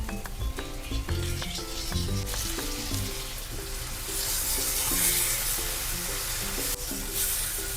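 Tomatoes added to golden-brown fried onions in a pan sizzle and fry steadily, a close, continuous crackle with stirring scrapes, while soft background music plays throughout.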